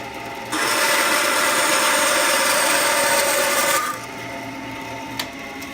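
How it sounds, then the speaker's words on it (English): A power saw rips through a wooden blank in one quick, loud, steady cut lasting about three seconds, then winds down to a quieter motor hum with a small click near the end. "I'm going to fire up the saw and do a quick cut."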